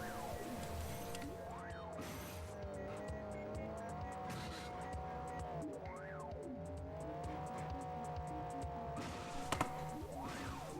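A car engine drones and its tires squeal in a Sega Dreamcast game, the revs rising and falling in smooth waves while sharp sliding squeals break through again and again under music-like tones, with no voices.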